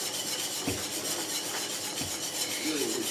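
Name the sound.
maize meal trickled and stirred into pot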